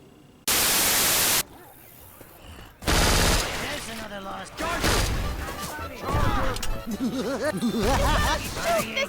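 Video-game gunfire played with a Steam Controller: a loud burst of static-like noise, then dense rapid shots and game effects, with talking over the later part.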